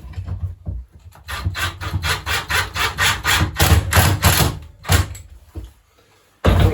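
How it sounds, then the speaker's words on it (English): Screws being driven into wood with a driver during basic woodworking, a loud series of rhythmic grinding, rasping turns that stop briefly, then resume in a short final burst near the end, with no talking. "taking your driver, starting a screw off, and then start to drive in"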